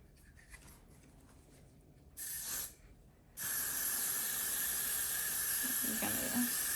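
Got2b hairspray is sprayed onto hair in two hissing bursts: a short half-second spritz, then a pause, then a long continuous spray that runs to the end.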